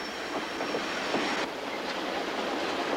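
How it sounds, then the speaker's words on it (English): Transcontinental passenger train bound for Montreal rolling along the Canadian main line, a steady broad rumble of wheels on track with faint clicks and a thin high squeal, continuous and fairly close throughout. "Now I joined the main line, the transcontinental train to Montreal"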